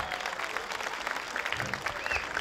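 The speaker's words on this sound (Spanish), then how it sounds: "Fuerte los aplausos para Fumia" Applause from a festive stage-show audience at a comedy and variety event, a steady dense patter of many hands clapping throughout, with some crowd noise mixed in.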